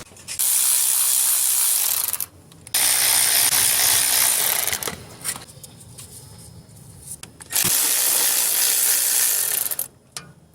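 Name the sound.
ratchet undoing 12mm bolt on Ford F150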